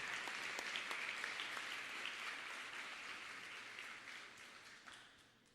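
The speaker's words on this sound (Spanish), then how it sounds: "Dale un gran aplauso al Señor" A church congregation applauds together, a dense, even wash of many hands clapping that holds steady for several seconds, then thins and fades out.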